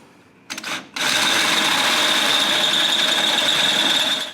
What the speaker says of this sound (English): so I'm going to drill this hole to that size.